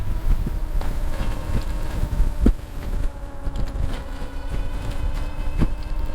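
Steady, rough wind buffets the microphone while a Zonveer ZX3 pedal e-bike is ridden into a headwind; a continuous low rumble with gusty swells, plus a few faint taps, and no talking.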